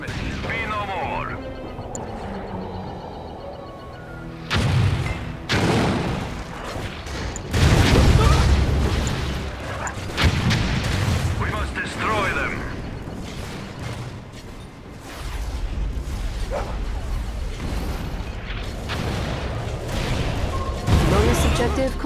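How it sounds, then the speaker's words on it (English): Soviet Dreadnought bombardment in Red Alert 3 at Vladivostok, with heavy, repeated booms and crashing blasts rolling at irregular intervals, mixed with mechanical game sounds and brief voices. "Now we can crush the Empire with bombardment."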